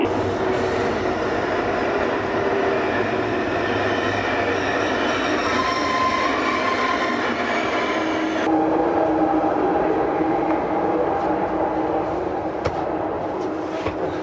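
A train rumbling steadily nearby in Germany, heading to Frankfurt Central Station, with rolling wheel noise and occasional faint squeals and clicks, loud and continuous throughout.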